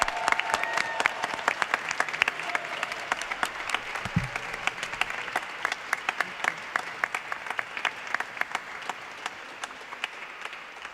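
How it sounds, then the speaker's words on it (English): A Diwali chapel audience applauds guest artist Jahnavi Harrison and Friends, with sharp individual claps standing out over a sustained crowd of clapping that continues throughout. "let's give a very, very special round of applause"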